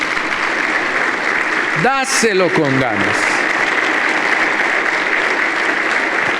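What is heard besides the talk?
church congregation applauding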